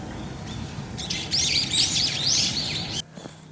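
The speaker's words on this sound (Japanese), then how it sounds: "この辺は鳥が多い。" Birds chirp in a park in Machida on a morning walk, rapid high twittering calls rising over soft outdoor background noise, then stopping abruptly near the end.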